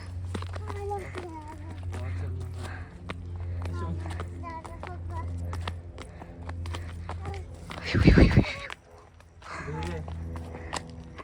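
Horse hooves clop along at a walking pace under frequent talk, with a brief loud burst partway through.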